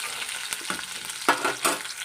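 Onion and garlic half-fry in a pan, giving a soft, close sizzle broken by several sharp scrapes and clacks as the spatula stirs them.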